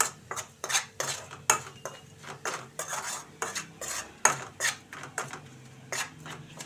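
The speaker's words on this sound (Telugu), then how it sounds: "మనం దంచి పెట్టుకున్న ఈ వెల్లుల్లి కారం దీంట్లో వేసేసి కలిపేస్తాను" Crushed garlic chili powder is mixed into hot tempering oil in a kadai with the stove off: a spoon scrapes and knocks rhythmically against the metal pan, about a dozen regular strokes, close and clear, without speech.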